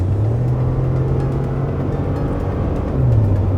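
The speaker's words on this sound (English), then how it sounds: "I was half throttle going through the gears there" A 2011–2014 Ford EcoBoost car at half throttle accelerating through the gears, a loud steady engine drone that rises in pitch, dips at a shift, then climbs again, heard from inside the cabin.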